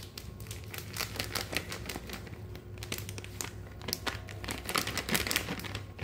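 Dry dhokla mix poured from a cut packet into a bowl, a steady close crinkling rustle of plastic and powder with small crackles running throughout, no voice.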